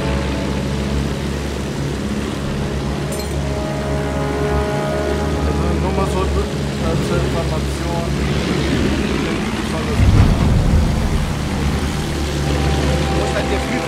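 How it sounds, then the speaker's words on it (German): Steady drone of an aircraft engine during a test flight in Battlefield 1, a continuous even hum running throughout with a brief louder swell near the end. "Das hier ist ein Testflug."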